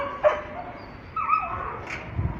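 A dog at an animal shelter whines with a single rising, high-pitched whimper in the middle, amid a few soft yips and low background noise.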